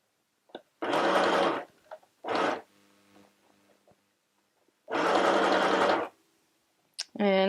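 A compact household sewing machine stitches decorative pattern 12 in two rapid mechanical bursts of about a second each, with a shorter burst between, separated by quiet handling clicks and fabric shuffling.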